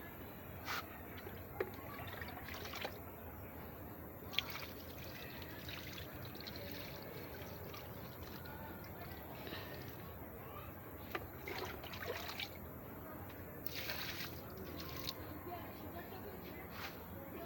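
Water poured over soil made from sawdust and cow dung along the sides of a home garden bed, a continuous soft splashing trickle up close, with faint drips and occasional clicks.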